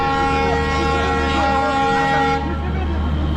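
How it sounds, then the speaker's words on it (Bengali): A train horn blares as a steady, loud tonal honk for over two seconds at a station before the train leaves on a journey from Agartala to Kolkata. Crowd noise and voices continue underneath. "ট্রেন ছেড়ে দেবে এখন, আবার হর্ন মেরে দিয়েছে"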